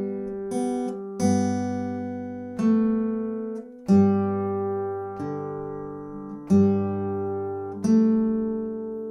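The first two bars of "Solen er så rød, mor" played on guitar: a steady sequence of about seven plucked notes over ringing bass strings, close and even in volume, with no voice.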